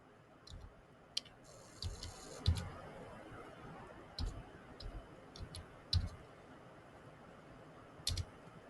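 Scattered clicks and taps of typing answers on a computer for math homework, sparse irregular keystrokes, some sharper than others, faint against a soft background hiss.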